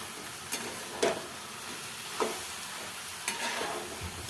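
Cabbage cooking in a pan with little oil, steamed village-style, giving a soft steady sizzle broken by four sharp scraping stirs of a spoon against the pan, close with no talking.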